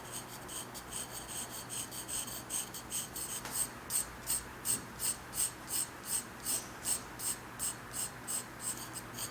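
A sharpened pencil shades a leaf drawing on paper in a steady, rhythmic scratching of short, fine strokes, close and fairly quiet, with no voices.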